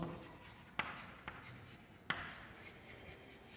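Marker or chalk strokes on a board during a grammar lesson in a quiet room, with a few sharp taps and scratchy strokes spread across a soft background and no talking.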